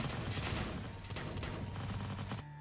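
Gunfire aimed at zombies in a video game, a constant barrage of rapid shots and clatter that cuts off abruptly at the end.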